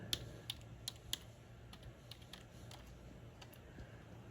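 Light, quiet typing on a computer keyboard while a barcode search is entered in Canva: a short burst of sharp key clicks, then a few softer taps over faint steady background hiss.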